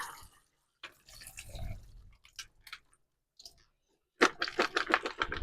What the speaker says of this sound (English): I'm going to run them under the water right quick.